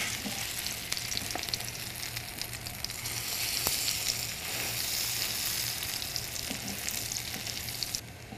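Zucchini potato latkes sizzling in a hot pan, a continuous close crackle and hiss with occasional sharp pops and spatters, no talking.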